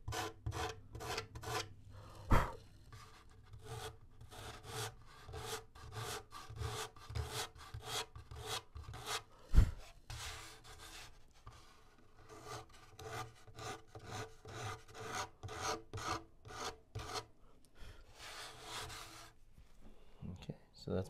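Light hand sanding of balsa wood on a model biplane, with close, rhythmic rasping strokes repeating steadily, a couple of sharper knocks in between.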